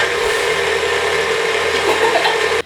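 Butter and oil for gluten-free chai cookies mixed with an electric mixer, a loud, steady close-up whirring that runs the whole time before cutting off at the end.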